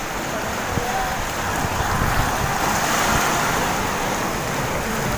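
Sea waves washing onto a beach in strong sun, a broad continuous roar mixed with wind buffeting the microphone, steady and moderately loud.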